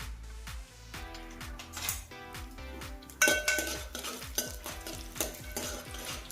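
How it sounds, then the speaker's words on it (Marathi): Cashews tipped into a pan and stirred for a fasting kheer. A spoon scrapes and clinks against the metal in a steady rhythm, close by and with no talking. "आता मी काजू टाकून घेत आहे।"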